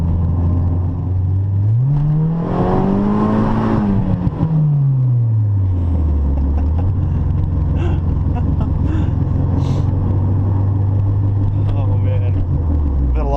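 A modded 1992 Honda Civic hatchback drives slowly and slides on a wet corner, its engine droning loudly and rising then falling in pitch, with a steady close road rumble and someone talking over it.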